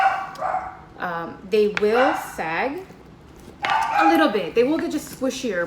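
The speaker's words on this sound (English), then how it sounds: "Sorry, excuse my dogs. They tend to go a little crazy." Dogs bark and yip in bursts indoors, near and fairly loud, mixed in with someone talking over them.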